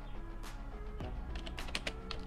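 Quick, light keystrokes tap on a computer keyboard in an irregular burst, fairly close but quiet, with a faint background hum.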